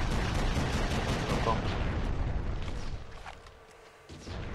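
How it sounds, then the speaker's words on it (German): Gunfire and rocket blasts in the video game Red Faction, a dense, continuous rattle of shots and booms that thins out toward the end. "Oh, die schießen Raketen."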